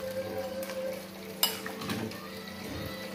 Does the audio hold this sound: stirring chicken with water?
yes